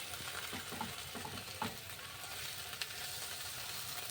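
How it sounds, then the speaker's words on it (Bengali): Prawns stirred with masala in a hot pan for a dry masala prawn dish give a steady close sizzle, with a few scraping spatula strokes near the start and middle. No one speaks. "মশলাটা দিয়ে চিংড়ি মাছগুলো একটু নাড়াচাড়া করে নেব।"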